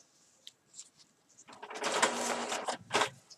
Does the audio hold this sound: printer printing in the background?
yes